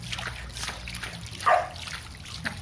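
Water trickles and splashes softly nearby, with a brief louder splash midway and faint background noise throughout.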